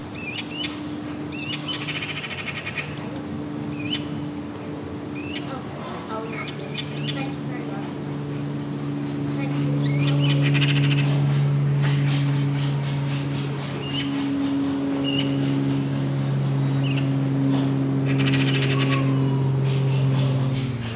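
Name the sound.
young wood pigeons squeaking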